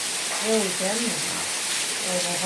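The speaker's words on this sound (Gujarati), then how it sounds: "આજે વરસાદ છે" Steady rain falls in Mithapur, a dense, even hiss that fills the background while voices talk over it throughout.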